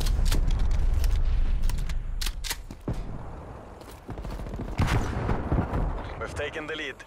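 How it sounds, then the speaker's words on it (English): Incoming artillery fire in a video game lands as a series of loud, sharp explosive bursts and crackling blasts, spaced irregularly, mixed with game voice lines and shouting. "Hostile artillery targeting active. Artillery inbound."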